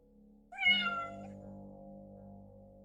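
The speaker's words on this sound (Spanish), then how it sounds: "El felino insistió, maullando." A house cat named Ninja gives one clear, drawn-out meow up close, followed by a low steady hum in a quiet room.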